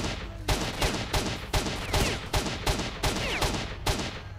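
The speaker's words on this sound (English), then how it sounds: "Now, there's someone shooting at me." Bandits firing guns in S.T.A.L.K.E.R. Shadow of Chernobyl, a steady series of about a dozen sharp shots at a brisk, regular pace, near and loud over a continuous background rumble.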